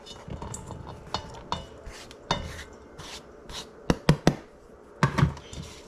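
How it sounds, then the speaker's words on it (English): Biscuit pieces and cheese being mixed in a bowl, with a utensil clinking and scraping against the bowl in scattered knocks and a cluster of sharper, louder clanks near the end, close and with no talking. "mixing it all up so that's kind of mixed together because the biscuits are sticky"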